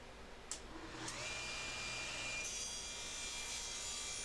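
Power saw cutting wood with a CNC-made fixture sled, a couple of sharp knocks at the start, then a steady, loud whining cut that holds to the end with no talk.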